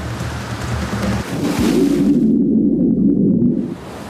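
Atlantic Ocean waves wash around a Viking longship replica, a loud broadband rush with low rumbling surges that swell and then subside near the end.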